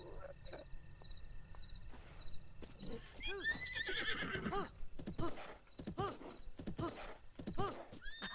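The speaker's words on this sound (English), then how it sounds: "Come here, horse." A horse in a Zelda game neighs and whinnies several times amid rapid clip-clopping hooves, the calls loud and close, with a brief human exclamation mixed in.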